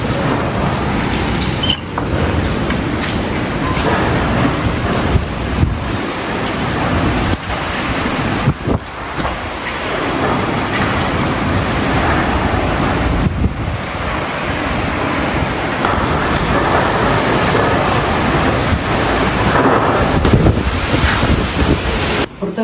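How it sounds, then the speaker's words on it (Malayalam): Strong stormy wind blows outside, a loud, continuous roar with buffeting gusts hitting the microphone throughout and no one speaking. "കാറ്റ് കണ്ടില്ലേ, ഭയങ്കര കാറ്റ്, കൊടുങ്കാറ്റ് പോലത്തെ കാറ്റാണ്."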